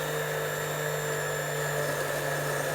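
A small drill fitted with a 1.2 millimeter bit, used on delicate work on a light switch, whirs steadily at close range with a constant high-pitched motor tone and no talking.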